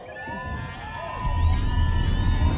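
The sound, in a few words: crowd applause and cheering at rally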